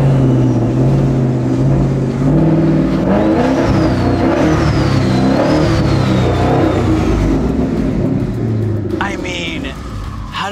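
The Kendall Custom car built by Thompson Street Customs revs its engine up close, a loud deep rumble with climbing harmonics and a whining overtone, fading slightly at the end as other sounds creep in.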